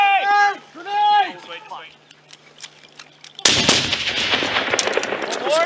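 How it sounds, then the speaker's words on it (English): Hand grenades thrown and detonating during an infantry firefight in Afghanistan, a loud broadband blast cutting in midway after shouted voices, followed by sustained crackling gunfire and debris noise. "Let's lob some grenades over there."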